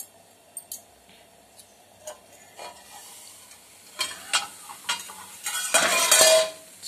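Round snack balls frying in a pan give a soft, close sizzle dotted with sparse clinks of a utensil, the crackle swelling louder and denser toward the end.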